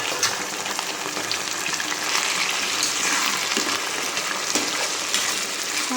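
Chicken is dropped into hot oil already holding onions and green chillies, producing a loud, steady sizzle and crackle with a broad hiss that continues without pause.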